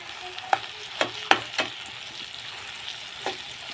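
Tomatoes cooking in a pan, with broad beans at one side, are stirred with about five sharp scraping strokes over a steady low sizzle, close and clear with no voices.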